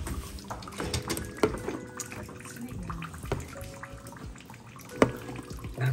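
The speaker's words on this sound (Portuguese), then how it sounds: "lavamos bem na água pra esfriar e vamos cortar em tirinha" Cooked konnyaku being rinsed under running water to cool it, with splashing, trickling and sloshing in a sink, plus occasional sharp knocks and clinks from handling, close and moderately loud.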